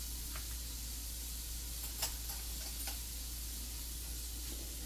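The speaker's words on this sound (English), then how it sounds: "we're going to add the onions first, because onions take longer to cook" Onions sauté in a pan for a turkey taco tot hotdish, giving a steady close sizzling hiss with a few faint clicks of stirring.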